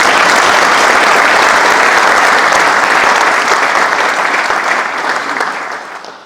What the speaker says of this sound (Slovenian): Predlagam še en aplavz.